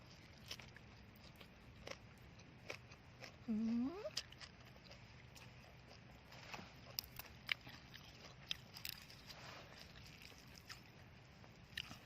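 Someone eats khanom chin rice noodles with papaya salad outdoors among vegetable plants, producing soft intermittent chewing and biting sounds close by, with a brief vocal sound partway through.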